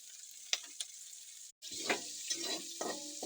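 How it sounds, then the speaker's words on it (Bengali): Potatoes, cabbage, onion, chili and peas fry in a pan with a soft continuous sizzle, broken by a few stirring scrapes and a brief pause before the sizzling picks up again, close and fairly quiet. "ভালোভাবে ভেজে দেবো"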